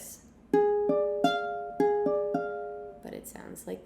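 A diminished chord struck on a keyboard, repeated in a series of sustained attacks roughly every half second, ringing clearly and alone, followed by a brief burst of noisier sound at the end.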